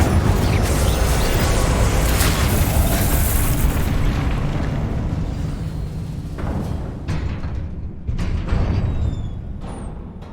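Incendio fire spell blast in the Hogwarts Legacy game, a loud roaring burst that sustains and slowly fades, with a second flare near the end.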